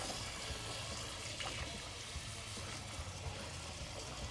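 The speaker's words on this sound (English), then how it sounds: "after you get your eggs drained, then you add cold water" Cold water running and pouring over drained boiled eggs in a pot, a steady, broad splashing trickle heard close and alone throughout.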